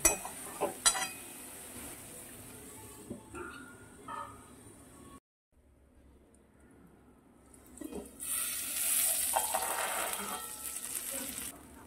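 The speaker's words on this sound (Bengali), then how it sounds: "এবার মশলাটা আমি খুব ভালো করে কষিয়ে নেব।" Spice paste with coriander leaves sautéed in oil for chana masala, a soft sizzle with occasional spoon scrapes and clinks under a voice, a brief silent gap, then the frying hiss grows louder and steadier.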